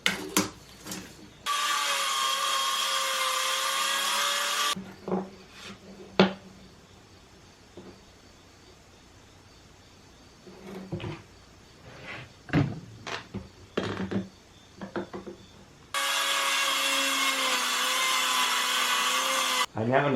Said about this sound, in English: Out of this piece I'm going to cut two 14 by 32 inch boards.